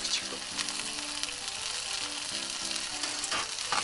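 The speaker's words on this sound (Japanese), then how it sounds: "もうとにかく時間をかけて、皮目をパリッと焼く" Chicken thigh skin sears skin-side down in a pan for a crispy chicken steak, producing a dense, even close-up sizzle with fine crackling and a faint tonal hum underneath, no talking.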